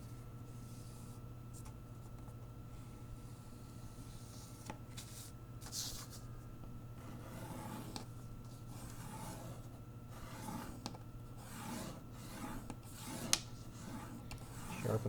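Faint dry rubbing and scraping as a crease is pressed sharp on a folded paper model, in short uneven passes over a quiet background hum.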